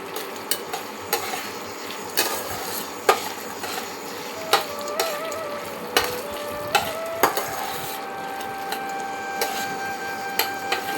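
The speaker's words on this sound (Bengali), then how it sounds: "এই ঘিয়ের মধ্যে আপনার কাজু কিশমিশটা দিয়ে দিলাম।" Cashews and raisins fry in ghee with rice in a pan, a soft continuous sizzle punctuated by repeated sharp clinks of a spoon stirring against the pot.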